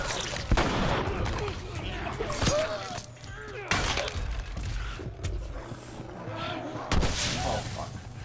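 Gunshots in The Last of Us ring out as several sharp, loud cracks spaced a few seconds apart, over a busy game soundscape with someone talking between them.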